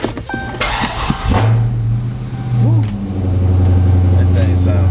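Dodge Scat Pack's engine starting up and revving, a loud close roar that climbs and settles into a deep idle, with someone talking over it at the start.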